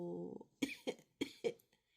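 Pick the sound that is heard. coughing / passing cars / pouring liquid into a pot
coughing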